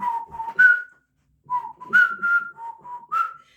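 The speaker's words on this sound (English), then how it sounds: "I meant to whistle this song." A person whistles the melody of a 1980s song in short, clear phrases with brief pauses between them, close and alone with no other sounds.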